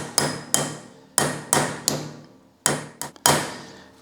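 Sharp metallic hammer strikes on a punch drive wedges deeper into an axe head, about nine separate ringing blows at irregular intervals, close and loud, each decaying quickly.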